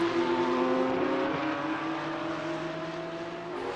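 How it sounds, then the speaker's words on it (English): Race cars lapping the Brands Hatch Indy circuit, a steady loud engine drone with sustained harmonic tones shifting pitch as cars pass, continuous throughout with no talk. "Just watching the cars come round and enjoying the sounds here"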